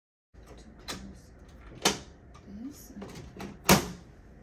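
Covers on an Epson F570 printer shut with a few sharp plastic clunks, two louder ones standing out, over a quiet room with light background noise.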